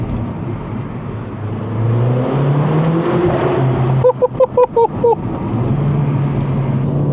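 A Mercedes A45 AMG engine revving loudly inside a tunnel, a sustained droning pull broken by a rapid burst of sharp cracks on the upshift, then the engine note resuming, close and dominant.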